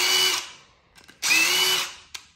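A power tool spins out the throttle body mounting bolts on a 2023 KTM two-stroke dirt bike in two loud, close bursts of whirring, with a short pause and a brief final blip.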